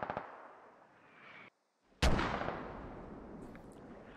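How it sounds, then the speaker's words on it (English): Mortar volley explosions in the Squad video game: a sharp heavy blast lands after a brief silence, followed by a long rumbling decay over a dense battlefield background of distant gunfire and booms. "Mortar hits Imanaz, kills Imanaz."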